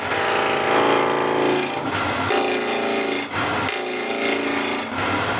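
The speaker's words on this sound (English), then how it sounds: "So let's start out with spindle roughing gouge." A spindle roughing gouge cuts wood spinning on a lathe, giving a loud, harsh, continuous rasping drone up close, interrupted by brief gaps as the tool lifts off and bites again, with no talking.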